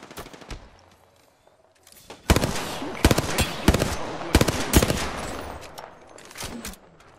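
Automatic weapon fire in the Apex Legends battle royale, several rapid bursts of sharp cracks from about two seconds on, loud and close, with quieter game sounds between bursts.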